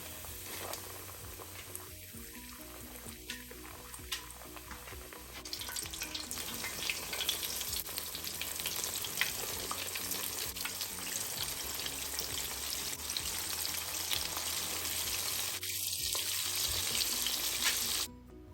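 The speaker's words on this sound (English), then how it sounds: "We are gonna add them to the oil and bubble away." Steady crackling sizzle of chicken wings frying in hot oil in a pot, rising louder midway and bubbling continuously, with a few faint clinks near the start.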